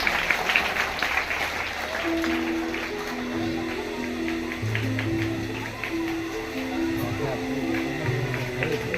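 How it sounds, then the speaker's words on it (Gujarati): Dense applause from an audience at a village primary school event in Jambusar, India, steady clapping throughout, with a sustained musical tone and some voices underneath. "આપણે સૌ તાળીઓથી વધાવીશું."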